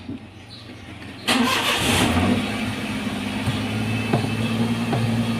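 A car engine cranks and catches after about a second of quiet, then settles into a loud, steady idle close by, with a few faint knocks over the running engine.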